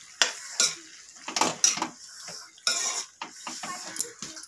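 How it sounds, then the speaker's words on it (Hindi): Tomato chutney seasoned with salt and black salt being mixed in a metal pot, a spoon clanking and scraping in uneven bursts close by, with only a faint sizzle underneath and no speech. "अब इसको हम मिला देंगे अच्छे से,"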